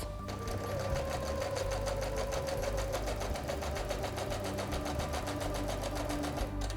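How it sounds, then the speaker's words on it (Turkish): Sewing machine running steadily in a fast, even rhythm while stitching an evening bag, a continuous close whirring chatter of the needle with no pauses and no talk. "Muntazam bir şekilde aşağıya kadar makine dikişimize devam ediyoruz."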